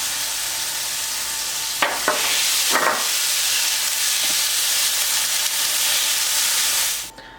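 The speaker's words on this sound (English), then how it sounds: "now that we've got our garlic and onion nice and sauteed" Garlic and onion sauté in a pan for a turkey meatloaf, giving a steady, close sizzle and hiss throughout, with a couple of brief utensil clatters early on before the sound cuts off near the end.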